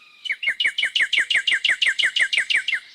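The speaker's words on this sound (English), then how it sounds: "Birds start singing with all their hearts" A single songbird repeats a clear, rapid chirping phrase about a dozen times in steady rhythm, close and loud, against a quiet spring backdrop.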